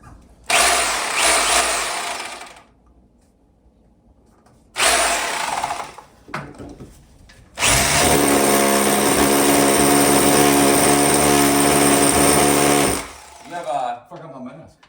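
A hammer drill bores into a brick wall in loud, harsh bursts: two short runs, then a long sustained drilling stretch, with pauses and brief voices between bursts.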